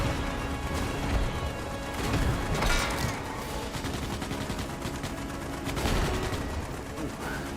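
Rapid gunfire from a ship's turrets in the video game Starship Troopers: Extermination, dense continuous bursts with crashing impacts throughout, loud and busy with no clear pauses.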